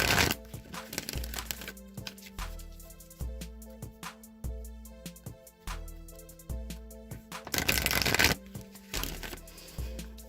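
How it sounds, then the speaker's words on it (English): Oracle card deck being shuffled by hand, a run of crisp riffling and slapping bursts with repeated card snaps, close and fairly loud, with a brief low hum under it and no talking. "I'm just going to give it a few shuffles here"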